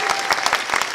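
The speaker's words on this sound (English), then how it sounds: "Give them a round of applause." An audience at a furry convention closing ceremony claps in a brief, dense burst of applause, close and lively, with no clear speech over it.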